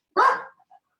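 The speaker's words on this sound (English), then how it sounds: "The dog." A dog lets out one sharp, close bark that trails off quickly, followed by two faint little whimpers or yips in an otherwise quiet room.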